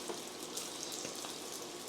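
Squid pieces sizzle and crackle in hot vegetable oil, a steady bright frying hiss with scattered pops, moderately quiet and with no talk.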